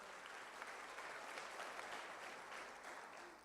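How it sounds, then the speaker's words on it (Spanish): Congregation applauding in a Spanish-language church service, a steady wash of clapping lasting a few seconds, soft in level and gently fading at the end. "denle el mejor de los aplausos al Maestro"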